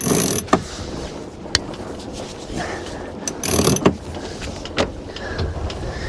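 A faulty ratchet on a sailing boat's winch clicks and grinds in short mechanical bursts, with a few sharp knocks standing out over steady outdoor background noise.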